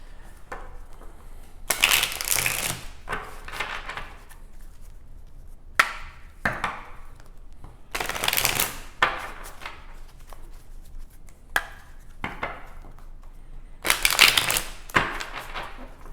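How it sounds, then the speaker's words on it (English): Tarot cards being shuffled and pulled during a reading, several separate bursts of crisp riffling and snapping with quiet gaps between them, close and fairly soft, with no voices. "let's pull more cards and see what else we have"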